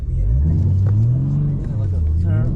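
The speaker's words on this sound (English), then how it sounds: "Now do a burnout." BMW M4 G82 revving hard during a burnout, a loud close engine roar rising and falling, with people talking over it.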